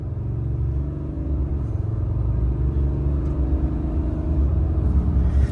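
Deep, rumbling Cummins diesel truck engine accelerating, building steadily louder, a heavy low throb with no talking, close by.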